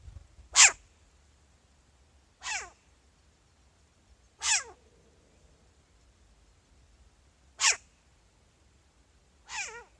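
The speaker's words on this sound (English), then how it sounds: "Short-eared owls sound like something in distress." Five short, raspy, distressed-sounding cries of a short-eared owl spaced a couple of seconds apart, sharp and fairly close against a quiet background.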